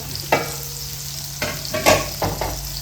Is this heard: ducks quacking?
no